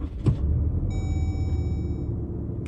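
A Ram 2500 diesel truck idles in a quiet, low, even rumble heard close by, with a faint electronic tone over part of it.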